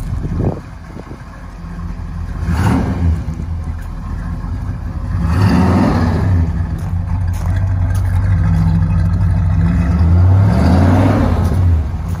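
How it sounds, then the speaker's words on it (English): A 1978 El Camino SS with a 454 V8 being revved in a few deep rising and falling bursts over a steady idle, loud and close with a throaty rumble. "Give it a little gas."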